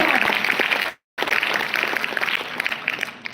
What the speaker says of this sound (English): Can you give him a clap?